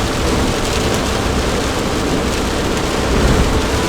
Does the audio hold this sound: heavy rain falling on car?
yes